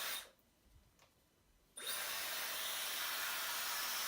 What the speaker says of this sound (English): it's actually fairly quiet compared to most hair dryers I've ever used